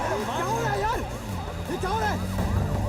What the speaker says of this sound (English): that's the slowest police car ever